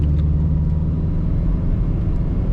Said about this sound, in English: we're gonna do a nice hard pull here